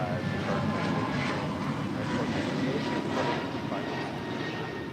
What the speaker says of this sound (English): That is American Airlines 1959 departing to Miami, Florida on an A321neo